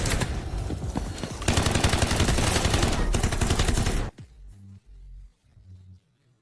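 Rapid, dense bursts of PKM machine gun fire in the video game Delta Force roar for about four seconds, then cut off, leaving a few quieter low thumps and mechanical sounds.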